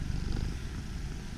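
A cat on Yakushima island purrs up close, a continuous low, rhythmic rumble that holds steady for the whole moment without any talking.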